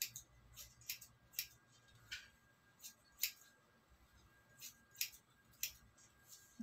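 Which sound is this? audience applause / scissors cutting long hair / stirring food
scissors cutting long hair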